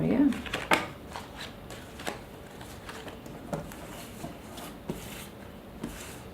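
Tarot cards shuffled by hand, giving soft, scattered papery taps and rustles spread across several seconds, with a brief voice at the start.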